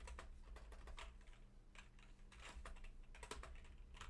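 Quiet, steady typing on a computer keyboard, with rapid irregular key clicks in short bursts and no talking.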